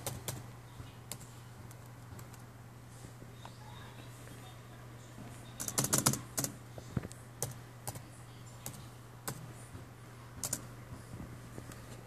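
Someone types on a computer keyboard in scattered clicks, growing into a denser burst midway, over a steady electrical hum and faint room noise.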